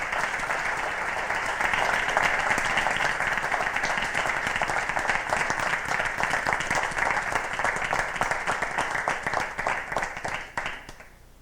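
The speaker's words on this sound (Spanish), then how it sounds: "Fuerte aplauso" Strong, sustained applause from the audience at the Navarra Puerta de Europa award ceremony, a dense even wash of clapping for about ten seconds that fades out at the end.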